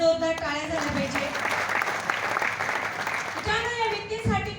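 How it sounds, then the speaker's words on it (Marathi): An audience gives loud, sustained applause for Deepak sir at a gathering. Someone speaks just before the clapping swells and again as it fades. "दीपक सरांसाठी सुद्धा एकदा जोरदार टाळ्या झाल्या पाहिजे."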